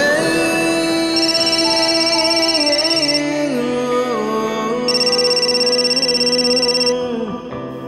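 A telephone rings loudly and steadily in a domestic scene from a Bengali TV drama, with sustained electronic ringtone bursts repeating over a musical background, and no talking.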